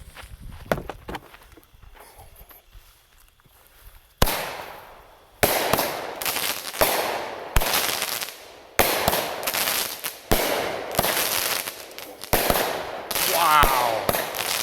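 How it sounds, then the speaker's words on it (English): An Elite Fireworks H-Town Madness 200 gram cake fires its 16 shots outdoors, with sharp loud booming reports arriving in an uneven rapid sequence after a few quieter crackles and footsteps. "here goes our first 200 gram cake, 16 shots. This is the H-Town Madness Assortment by Elite Fireworks."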